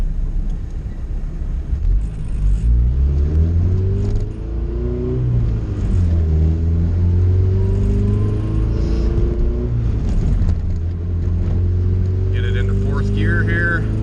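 A turbocharged Volvo B20 engine pulls hard under extra boost, its loud, rising drone of engine and exhaust filling the whole stretch with the pitch sweeping upward in waves, and a voice comes through faintly underneath.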